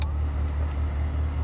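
A 1983 Ferrari 308 GTS air conditioner blows a steady, close fan whoosh over a low, constant idle hum inside the car, with no one speaking.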